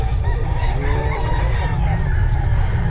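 A Black McRae gamefowl rooster for sale at a busy poultry market crows loudly and close, with clucking from other fowl and a dense crowd murmur running underneath throughout.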